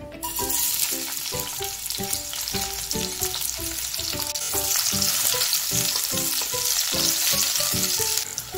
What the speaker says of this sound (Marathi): तेल तापलेलं आहे। सुरुवातीला कांदा टाकून घेऊया।